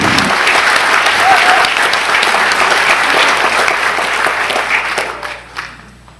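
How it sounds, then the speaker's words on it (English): An audience at a school board meeting applauding graduating seniors, dense loud clapping from a crowd that holds steady, then tapers off and fades out near the end. "a final round of applause for these seniors"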